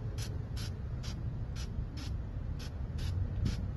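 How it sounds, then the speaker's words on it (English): Short bursts of spray paint hiss as it is spot sprayed, about nine quick even puffs in a steady rhythm, close by and fairly quiet over low background rumble. "I'm just kind of spot spraying."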